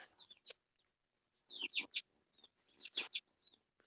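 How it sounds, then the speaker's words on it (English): Hens clucking on a homestead in two short bursts, with soft, quieter calls between, close by and with no talk. "some of our hens aren't as loud as other ones"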